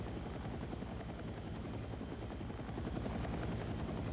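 A transport helicopter in a video game flies steadily, its rotor chopping in an even low throb under a broad engine roar, continuous and close, with no voices.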